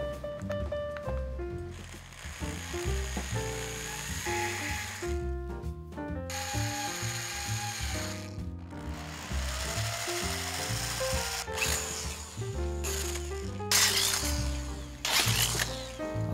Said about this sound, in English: I wait until kind of the last moment to drill these holes.